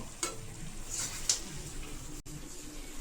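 Food being sautéed and stirred in a pan before pressure cooking, a steady sizzle with a few sharp scrapes of the spoon, close and moderately quiet with no voice over it.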